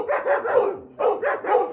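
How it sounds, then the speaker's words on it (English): A dog barks at a gate in short repeated bursts, two quick groups of two or three loud, close barks separated by a brief pause. "him barking at the gate"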